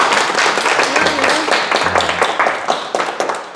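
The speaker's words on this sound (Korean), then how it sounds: "오늘 원래대로 돌아갔다고 축하 박수 부탁드립니다" Applause from a live audience at a Sunday lecture, a brief burst of clapping with scattered individual claps that thins out toward the end.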